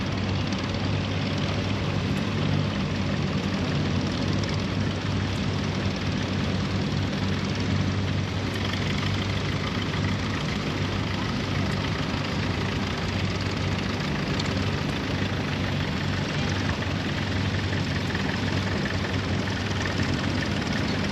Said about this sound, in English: Tractor number 2, here comes a 1955 Ford. That's a model 800